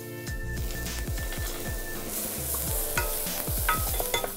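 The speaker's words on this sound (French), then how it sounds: "on dit qu'on va suer l'échalote" Shallots sweat with a pinch of salt in a pan for a foie gras sauce. A soft, steady sizzle runs under repeated scraping stirs and occasional metallic clinks, close and continuous.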